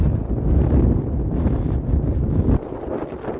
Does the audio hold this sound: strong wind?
yes